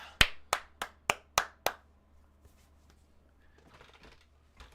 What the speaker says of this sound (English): What's that clapping sound?